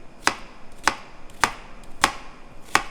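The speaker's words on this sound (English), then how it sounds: "when you get to the point where you don't feel safe holding the knife or the onion end up while chopping" Knife chopping an onion on a cutting board: five crisp, evenly spaced chops, close and clear, with no talking.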